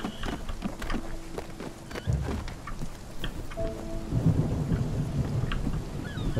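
Rain and rumbling thunder from the video game Spiritfarer, a steady wash of rain with low thunder rolls swelling in the second half, plus a few brief tonal game sounds layered on top.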